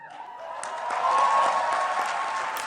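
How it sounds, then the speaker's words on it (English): Steady applause at a UN meeting on an ocean protection deal, building slightly in the middle and continuing at a moderate, somewhat distant level. "Applause and relief."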